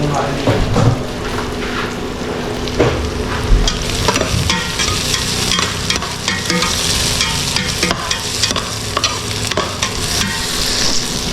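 Liver and intestines fry in a pan with loud sizzling and steady scraping and stirring throughout, with occasional voices in the background.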